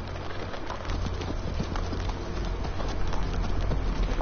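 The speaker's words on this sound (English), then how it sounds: "Those horse sounds sound like they're going a lot faster than those horses were actually moving" Rapid horse hooves clip-clop steadily through a Game of Thrones video game scene, the quick beats running alone over a low rumble and faint bird chirps.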